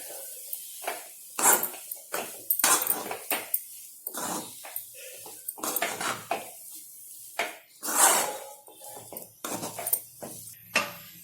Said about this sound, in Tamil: அடுப்பை சிம்மில் வச்சுட்டு நல்லா இதை கலந்து விடுங்க